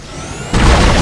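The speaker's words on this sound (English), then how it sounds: "here's a secondary fire of this weapon" A Dead Space weapon's secondary fire goes off in a single sudden, loud boom after a brief quieter lead-in, then sustains a rumbling burst.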